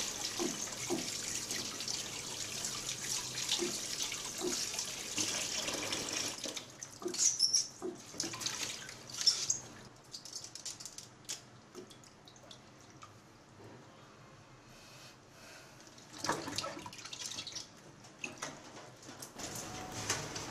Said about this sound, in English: Wash it thoroughly because the dirt and the sand stick pretty well onto the leaves.